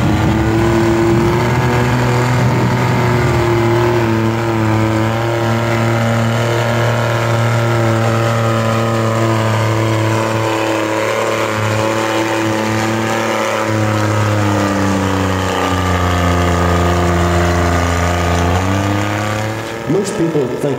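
A loud four-wheel-drive truck engine roars and drones steadily at close range while churning through mud, pitch rising and falling as it revs, with a voice faintly beneath.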